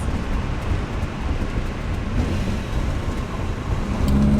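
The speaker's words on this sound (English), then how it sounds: "We're like driving right on the train tracks." A van drives through the Whittier tunnel right on the train tracks, a steady low road rumble and enclosed hum filling the space throughout, swelling slightly louder near the end, with no talking.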